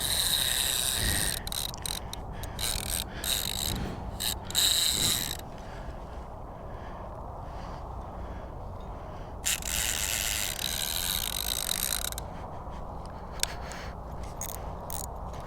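A fishing reel's clicker ratchets as a carp pulls line against a light drag in cold water: fast bursts of rapid clicking, broken by short pauses and quieter stretches, heard close with no talking.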